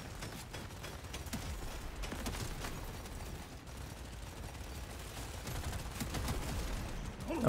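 A minigun in the game Deep Rock Galactic Survivor fires without pause, a dense, steady roar of rapid gunfire that holds an even loudness from start to finish.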